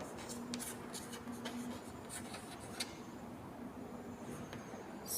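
Faint scratchy strokes of writing on a board come in short repeated bursts at a steady pace, heard quietly against a low background hum.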